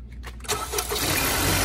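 A 2018 Honda Accord EXL engine cranks for a moment with a whirring starter, then catches and settles into a loud, steady idle close by.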